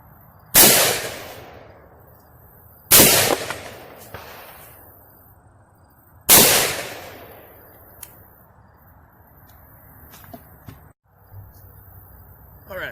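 Three loud, sharp rifle reports from a Palmetto State Armory 300 Blackout Marauder ring out close by outdoors, spaced a few seconds apart, each trailing into a short echo, followed by quieter rustling and a few faint clicks.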